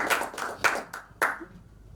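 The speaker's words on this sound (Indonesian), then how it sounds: "Kita beri tepuk tangan" A small audience claps in a short, scattered burst at a school training session, several distinct sharp hand claps fading out over two seconds with no talk.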